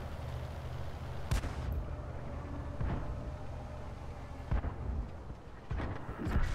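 Tank cannon fire in World of Tanks, with several sharp booming shots spaced a second or more apart over a low rumbling battlefield background, some close and loud, others more distant.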